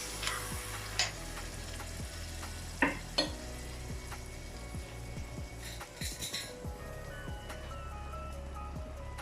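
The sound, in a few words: stirring tomatoes frying in a pan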